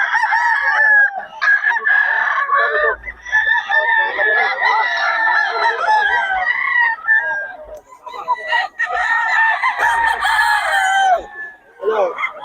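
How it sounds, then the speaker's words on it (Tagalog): Several roosters crowing and chickens clucking close by at a chicken seller's, loud overlapping calls rising and falling one after another, with occasional brief gaps. "Ang ganda ng mga manok."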